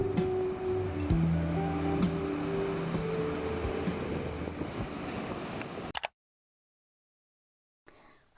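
Ocean waves wash onto a beach in a continuous rumbling surf for about six seconds, close and moderately loud, then cut off abruptly to silence before a faint return.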